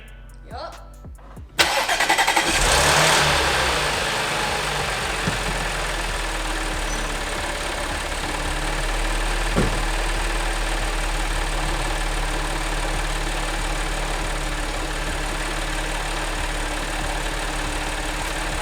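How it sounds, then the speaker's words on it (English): Audi B8 S4 with a newly installed CTS dual pulley cranks after a short burst of clatter, catches with a loud start, then settles into a steady, even idle that runs close and continuous. "All right guys, the car's started up."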